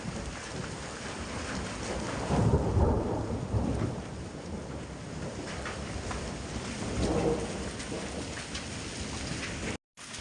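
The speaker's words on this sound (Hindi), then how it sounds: "कुछ बूंदाबांदी बारिश हो रही है और बिजली चमक रही है" Rain falls steadily outdoors near Gangolihat as a storm moves in, with thunder rumbling low through the middle and swelling again later, a continuous wet hiss under the booming.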